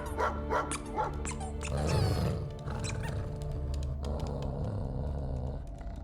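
Cosmo the dog from the Marvel's Guardians of the Galaxy video game barks in a quick run of sharp yips, then whimpers and goes quieter against steady game sounds in the background.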